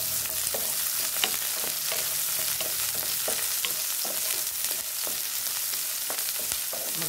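Garlic and onion sautéing in a pan for pancit canton, a loud, dense, continuous sizzle with quick repeated spatula scrapes and taps close by.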